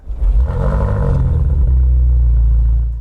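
The engine of a new BMW M5 revs up sharply, then settles into a deep, loud, steady rumble that holds close and strong to the end, with no talking.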